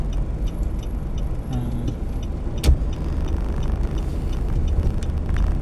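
Car driving through city traffic on a road between Marikina City and Quezon City, with a steady low engine and road rumble, a brief louder knock midway, and no talk.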